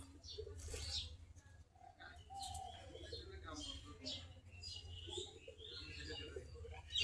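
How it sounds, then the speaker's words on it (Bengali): Native Giribaz pigeons in a loft on a cool winter morning, with soft cooing and chirping calls over a steady low hum and some background voices. "সবগুলাই দেশি গিরিবাস কবুতর"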